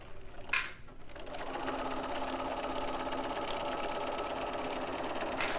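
A sewing machine stitching over a notch on a slip-on head cover with elastic, running in a steady, rapid whir after a brief rustle at the start.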